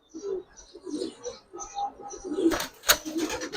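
High-flying Damascene pigeons, racing birds tagged by the same owner, give soft, close coos in short bursts, with a brief sharper flutter or clatter partway through.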